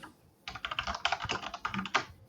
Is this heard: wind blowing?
no